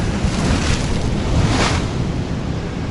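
Ocean waves break and spray along San Francisco's Coastal Trail in a loud, close, continuous wash of surf mixed with wind buffeting.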